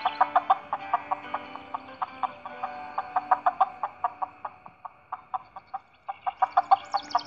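Chickens cluck in the farming game John Deere Drive Green, a rapid, regular run of close, sharp clucks continuing for several seconds with brief pauses, no speech.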